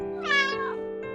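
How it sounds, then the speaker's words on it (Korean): A baby kitten gives one drawn-out, plaintive meow up close, followed by a brief, softer second cry. "슬프게 울고 있는 아기 고양이."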